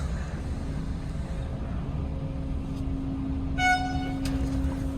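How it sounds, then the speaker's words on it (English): A single short horn honk sounds near the end, over a steady low truck engine rumble and idling drone while loading asphalt at a refinery. "we're going to wait for this honk"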